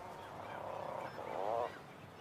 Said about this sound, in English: the once silent cliffs come alive to the calls of 4 million breeding seabirds